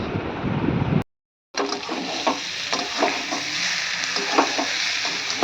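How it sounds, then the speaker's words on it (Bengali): Loud sizzling and frying in a pan as boiled potatoes and mushrooms are sautéed with repeated scraping stirs, close up, interrupted by a brief moment of silence near the start. "সিদ্ধ করা আলুটা দিয়ে খুব ভালোভাবে কষিয়ে নিচ্ছে"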